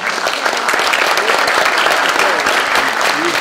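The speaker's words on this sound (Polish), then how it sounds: "Brawami." Steady applause from a crowd welcoming guests at a mayoral election convention, dense and continuous clapping filling the room throughout.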